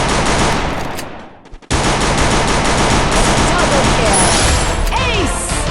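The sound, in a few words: gunfire while shooting at enemies in a video game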